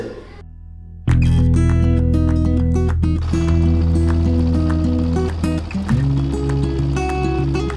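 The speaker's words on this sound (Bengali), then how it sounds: "তো আমরা নৌকায় করে ওপার থেকে এপারে চলে আসলাম।" A boat crossing the Halda River in Bangladesh, heard up close as a loud, steady droning engine with strong low harmonics that starts abruptly after a second and runs on with slight shifts in pitch.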